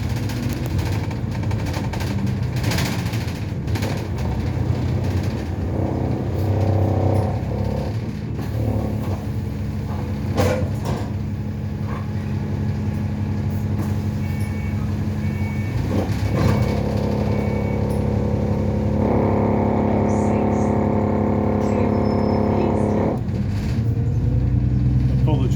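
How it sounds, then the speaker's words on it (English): An Enviro 400 double-decker bus on route 406 climbs a hill toward Surbiton, its engine droning and rattling with strong vibrations and loud clunks, steady and close from inside the cabin, with someone talking over it. "Apologies of all these vibrations and loud noises, but these Enviro 400s are well known for this sort of thing"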